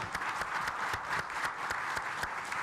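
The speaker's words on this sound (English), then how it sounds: "please join me in giving the panelists a round of applause" A conference room full of people applauding panelists, a dense steady applause with individual claps popping out, moderately close and without speech.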